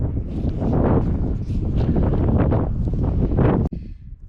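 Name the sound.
strong desert wind blowing on microphone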